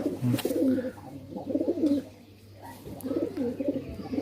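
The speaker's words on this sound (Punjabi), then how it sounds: "ਗੁਲਾਬੀ ਜਿਹਾ ਅੱਖਾਂ ਦਾ ਕਬੂਤਰ ਆ" Low, throaty cooing of a pink-eyed pigeon in several rounds with brief pauses between, close by and steady over a faint background hum.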